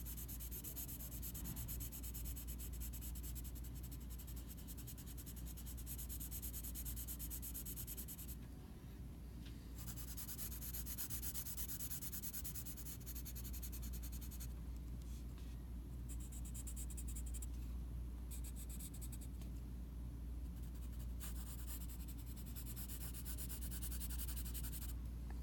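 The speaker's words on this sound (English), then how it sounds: "Kind of quickly shade this in." A pencil shades in a surface on a technical drawing, giving soft continuous rubbing and scratching strokes, close and faint, with brief pauses between passes and no talk.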